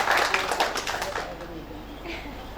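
An audience applauds for the first speaker at a political seminar in Malang, a dense burst of clapping that fades over a couple of seconds into room ambience.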